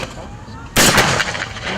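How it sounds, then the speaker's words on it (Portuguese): One sharp, loud gunshot from a firearm at a sport shooting range cracks out abruptly and then rings into a longer fading echo, with quieter ambient noise before it. "O tiro esportivo é uma atividade que envolve precisão e velocidade no manejo da arma de fogo."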